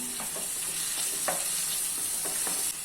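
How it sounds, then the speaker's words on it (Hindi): Ground onion, curry leaves and green chilies frying in oil for a masala fish curry, a dense steady sizzle with repeated scraping strokes of a spoon stirring through the pan. "अभी इसमें ग्राइंड किए हुए ऑनियन ऐड कर लेना है, करी लीव्स ऐड कर लेना है, और 2 ग्रीन चिली ऐड कर लेना है, और मिक्स कर लेना है।"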